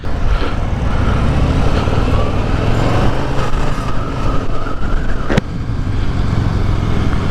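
A 2020 Harley-Davidson Fat Boy 114 motorcycle on the move, its engine a loud, steady rumble mixed with wind and road noise throughout.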